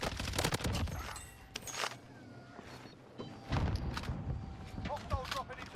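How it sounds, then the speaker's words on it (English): A sentry gun fires in a console first-person shooter, its rapid bursts of gunfire mixed with other loud battlefield game sounds, thuds and effects. "Sentry gun active."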